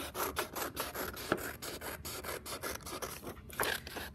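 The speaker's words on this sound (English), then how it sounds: "We can go ahead and cut this out." Scissors cutting through paper along a traced plate outline, a steady run of close, rough rasping snips with repeated open-and-shut strokes and no talking.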